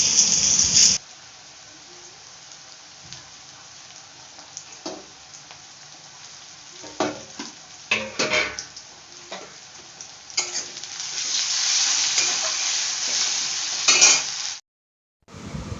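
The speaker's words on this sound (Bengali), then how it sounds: "ধুয়ে রাখা শুটকি মাছটা আমি পেঁয়াজের উপরে দিয়ে দিলাম" Dried fish dropped onto onions in a hot pan, with a steady, loud sizzle broken by stirring scrapes and crackles that swell toward the end before stopping suddenly.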